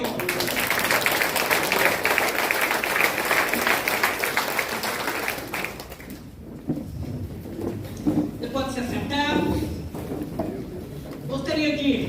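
A church congregation bursts into loud, sustained applause with dense clapping, which fades after about five seconds into a preacher's voice talking over scattered claps.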